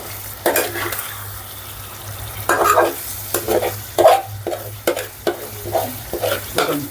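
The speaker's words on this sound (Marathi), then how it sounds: "मस्त मिक्स करून घेऊया" Shahi paneer masala is stirred in a pan over a low sizzle, with a series of repeated, close scraping strokes as the spoon works through the thick gravy.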